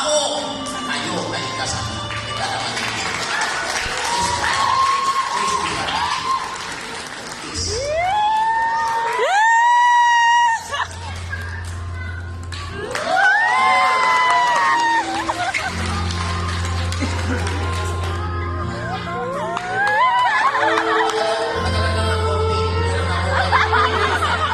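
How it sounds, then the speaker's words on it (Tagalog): Wedding guests cheer, shout and laugh in a lively crowd, with excited voices rising in bursts and talk and whoops overlapping across the scene. "Grabe hiyawan ng mga tao dito"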